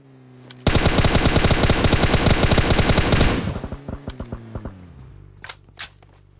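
Rapid automatic gunfire in the mobile shooter BGMI, a dense, loud burst of evenly spaced shots lasting about three seconds, then scattered fainter single shots and distant bursts.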